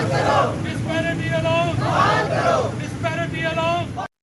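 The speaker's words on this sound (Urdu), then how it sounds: "مظاہرین نے مطالبات کی منظوری کے لیے حکومت کے خلاف شدید نعرے بازی کی" Protesting teachers chant slogans against the government in rhythmic shouted call-and-response, a dense crowd of voices close by with traffic noise underneath.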